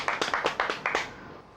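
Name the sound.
audience clapping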